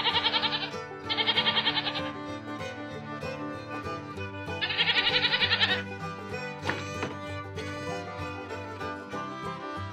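Three loud, drawn-out bleats, the first two back to back and the third after a pause, over a steady musical background.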